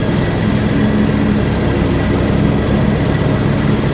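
A John Deere X724 4WS lawn tractor engine runs steadily and loudly throughout while blowing grass into a windrow, a constant close mechanical drone with no talk over it.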